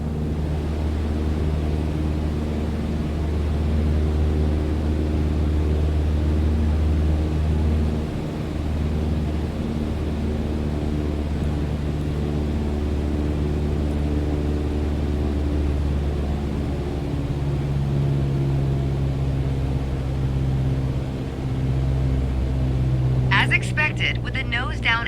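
A light aircraft engine in Microsoft Flight Simulator hums as a steady, loud, droning tone with layered harmonics throughout, and a brief rattling noise near the end.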